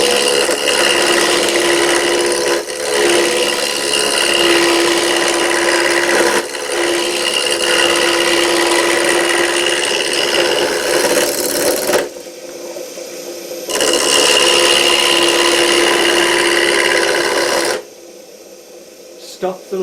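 Wood turning on a lathe gives a loud, close, continuous scraping and shaving hiss as the tool cuts the spinning workpiece, with brief pauses and a quieter stretch before the cut resumes, then stops near the end.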